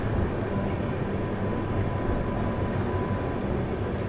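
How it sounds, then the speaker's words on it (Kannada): Rajdhani Express train in motion while overtaking the Karnataka Express near Penukonda Junction, heard as a steady, loud rumble of rolling wagons from inside a first-class AC coach, with no talking. "ಬೆಂಗಳೂರಿನಿಂದ ನ್ಯೂ ಡೆಲ್ಲಿಗೆ ಹೋಗುವಂಥ ಕರ್ನಾಟಕ ಎಕ್ಸ್ಪ್ರೆಸ್ಸನ್ನು ನಾವು ಓವರ್ಟೇಕ್ ಮಾಡಿದೀವಿ"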